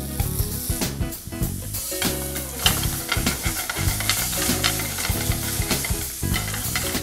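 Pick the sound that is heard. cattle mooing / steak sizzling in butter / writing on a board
steak sizzling in butter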